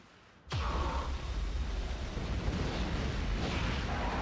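Discharge defense fires at a demolisher in a video game: a sudden loud blast lands after a brief quiet lead-in and rolls into a sustained, dense rumble of rapid energy discharges.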